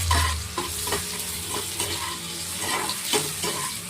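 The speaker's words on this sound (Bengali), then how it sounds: "আমি এটা পাশে একটু জিরে ফোড়ন দিয়ে দিচ্ছি। জিরেটা ভালো করে ভাজা হোক।" Cumin seeds crackle and sizzle steadily in hot oil for a tempering, cooked beside bitter gourd, with sharp spatula scrapes and taps of stirring cutting through the close, continuous frying hiss.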